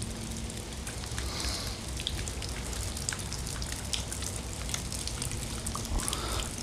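Rain falls outdoors in a steady, close patter of drops striking surfaces, with no voices over it.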